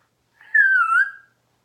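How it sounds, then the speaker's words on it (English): A person whistles a single sustained tone that slides gently in pitch, close and clear, alone against silence. "I whistle"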